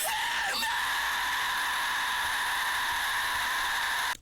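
A harsh, distorted metal scream vocal, split across left and right stereo channels, held steadily for about four seconds, loud and gritty, then cut off abruptly.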